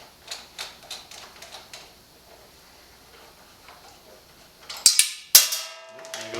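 A wrench works bolts loose on a motorcycle license plate bracket with a rapid run of light metallic ratchet clicks, then a pause and two loud, sharp metal clanks close up.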